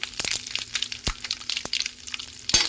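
Dried red chillies hit hot oil while tempering ugganie, giving a close, crackling sizzle with scattered sharp pops and a brief louder spatter at the end.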